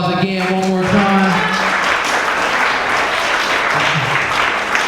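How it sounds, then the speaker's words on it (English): Applause for guest speakers at a Black History Month leadership brunch: after a voice trails off, steady crowd clapping swells and fills the room, sustained and fairly loud to the end. "I want to give our guest speakers a round of applause again one more time"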